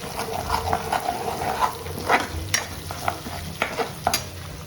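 Spice paste of ginger and chilli sizzles in hot oil while a spoon stirs it, with steady frying crackle and repeated sharp scrapes close by.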